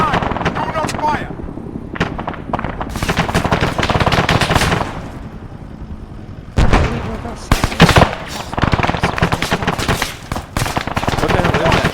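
Sustained automatic gunfire from an Arma 3 town-assault mission, loud dense bursts rattling almost continuously with a brief lull mid-clip before heavy firing resumes; voices can be heard underneath.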